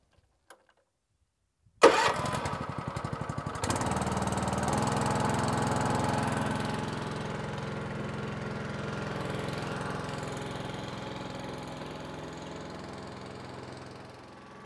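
The engine of a Sidewalk Slayer sidewalk cleaning machine, a pressure washer fitted with a 200-foot electric rewind hose reel, cranks and catches after a short silence. It settles into a loud, steady running drone close by.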